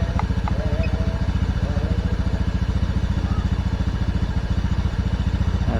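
A Honda Scoopy PGM-FI scooter with a weak coil swapped for a Beat FI coil idles at around 1600 to 1700 rpm, its small engine putting out a steady, close, even putter with light mechanical clatter.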